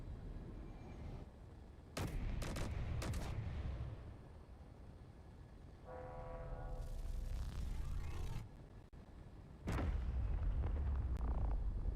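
Heavy turret gunfire in Space Engineers, coming as several sharp booming bursts in quick succession with a pause and then another loud volley, over a rumbling game background.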